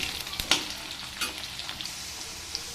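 Potato pieces with a little salt frying in a pan, a close, steady sizzle broken by sharp clicks and scrapes of stirring.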